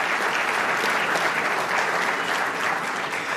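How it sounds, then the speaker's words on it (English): An audience at a conference of mayors applauds, a dense, steady wash of clapping that stays loud and even throughout the short stretch with no speech over it. "Let's give them all a round of applause."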